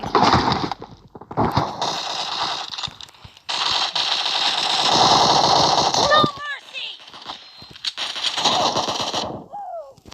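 Pistol and other gunfire in PUBG Mobile on a library map, with bursts of rapid shots recurring across the clip, mixed with game effects and talk over the top.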